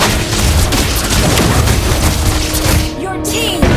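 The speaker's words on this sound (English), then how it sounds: "Your team destroyed the turret!" A turret being destroyed in the Mobile Legends video game gives a loud, dense, rumbling boom with crackling bursts and game effects, sustained for several seconds before cutting off briefly near the end.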